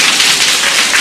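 A group of people clap fast with fingers to imitate heavy rain, making a dense, continuous hiss of crackling pats that stays loud and even from start to finish.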